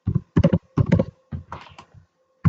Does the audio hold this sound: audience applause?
no